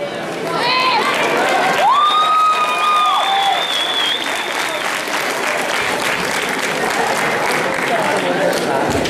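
Crowd applause and cheering for a male cosplay contestant at a comic expo, a broad sustained roar of clapping with some whoops and tonal shouts early on, loud and continuous throughout.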